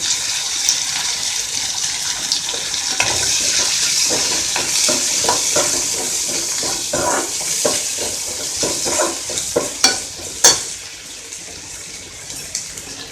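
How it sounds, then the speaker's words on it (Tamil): Mutton liver frying in a pan as it is stirred, giving a steady close sizzling hiss broken by scraping and clinking stirring strokes, with a few sharper knocks near the end. "அடுத்து ஈரல் போட்டுருவேன்"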